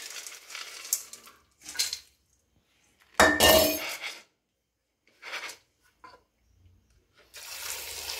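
Water rinsing inside a Tramontina Vancouver 6-litre pressure cooker: intermittent splashes and light metallic clinks, with one loud, close, sustained pour in the middle, alone without talk.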